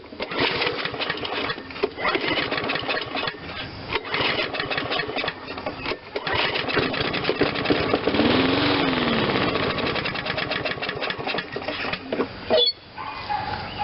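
A discarded MTD 22-inch walk-behind lawn mower engine fed choke spray runs on its own, a loud, busy sputtering chug with uneven firing that surges and drops, then stumbles near the end.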